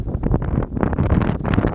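Gusty wind buffets the microphone outdoors in irregular, loud, close bursts over a couple of seconds, with brief lulls between rushes.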